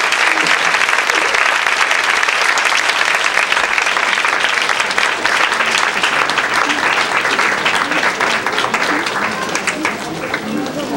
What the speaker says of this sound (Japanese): それから三田村美樹さんにも拍手をお願いします。